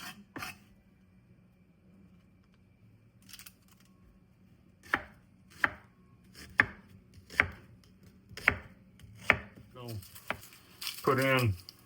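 A knife chops a medium onion on a cutting board in a home kitchen, a quiet lead-in followed by a run of sharp, evenly spaced chops and a short flurry of faster cuts at the end.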